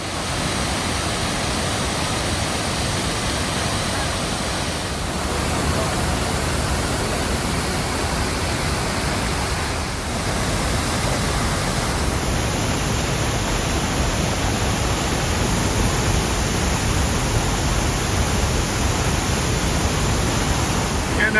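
The waterfalls of Iguazu Falls on the Brazil–Argentina border roar in a steady, dense, broadband rush, loud and unbroken throughout, with no voices.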